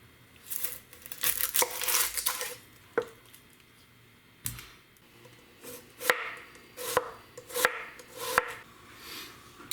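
Half a white onion being chopped on a cutting board for homemade chicken and mushroom ramen: a few quick bursts of crisp knife strokes, then separate sharp chops with gaps between them, close and fairly quiet.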